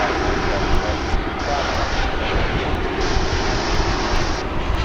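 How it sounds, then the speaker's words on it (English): A United Airbus A319 airliner at DFW Airport gives a loud, continuous roaring jet-engine rumble that stays steady throughout, heard close, with someone talking over it. "Here's United Airbus A319, flight 2669, headed to San Francisco."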